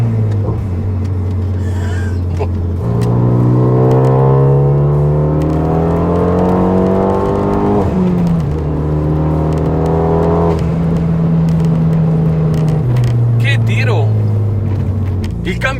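A Stage 2 Renault Megane RS 275 Cup-S, remapped with an enlarged intercooler to 309 hp and 425 Nm, revs loudly and close, its engine note climbing in repeated rising sweeps before settling and dropping back.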